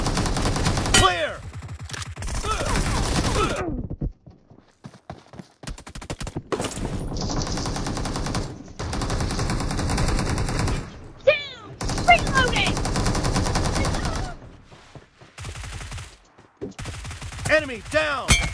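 Gunfire in a BGMI team deathmatch, repeated loud bursts of automatic weapon fire broken by short pauses, with game voice callouts between shots.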